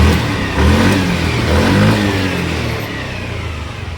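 TVS Jupiter BS6 scooter engine running right after starting, a loud, close, steady mid-pitched drone with a slight rise in revs early on, then settling into an even idle.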